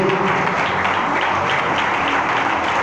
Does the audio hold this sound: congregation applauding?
yes